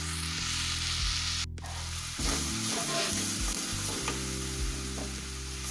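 Beef boti fries in a pan with a loud, close, steady sizzle broken by scraping stirs, and nobody speaks.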